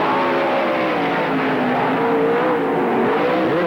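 Sprint cars racing flat out at Tri City Raceway Park during an A-main feature, engines roaring steadily and continuously close by with shifting whines as cars go around each other on the speedway.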